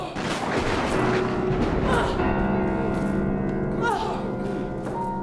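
Heavy cannon-like booms and blasts repeat over a noisy background, with people shouting over the gunfire.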